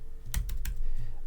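A handful of crisp keystrokes on a computer keyboard, close and clear, land in a quick irregular burst while entering an ID and name into a web app spreadsheet.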